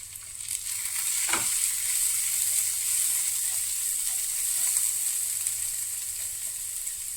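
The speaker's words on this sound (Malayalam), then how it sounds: "എന്നിട്ട് ഇളക്കി കൊടുക്കുക." Kothu idli frying and being stirred in a pan with masala, turmeric and chili powder, a steady close sizzle with a brief scrape of the spoon, no talking.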